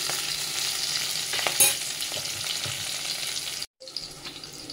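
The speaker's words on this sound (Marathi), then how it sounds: "तर मस्त असं परतून घेते मी मिरची." Green chilies sautéing in a pan for paneer fried rice, making a continuous close sizzle with scraping stir strokes before a sudden brief cutout near the end, then the frying resumes.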